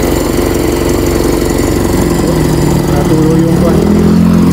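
Toyota 4K engine with a carburetor fault runs steadily just after starting, a loud close rough idle with a low throbbing pulse throughout.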